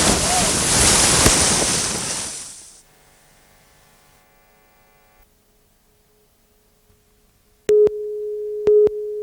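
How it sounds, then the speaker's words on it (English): An 18-foot skiff races through waves, heard as a loud wash of surf and wind rushing past for a few seconds before cutting to near silence and a couple of sharp electronic tones. "this is 18-foot skiff sailing. It's fast and it's wet."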